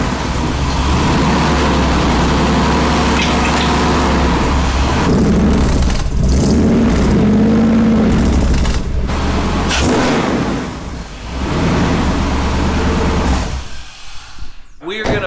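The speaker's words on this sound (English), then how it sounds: "Okay, Trevor, we're about to listen to the exhaust." Wrecker truck engine idling and running through a newly hung exhaust, a steady loud rumble with changes in pitch and a brief dip near the end, heard up close.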